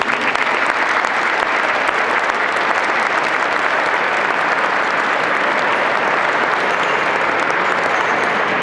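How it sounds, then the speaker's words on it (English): Sustained applause from an audience at a 2012 end-of-season club presentation evening, dense, even clapping that carries steadily from start to finish with no talk over it. "it's worth a round of applause anyway"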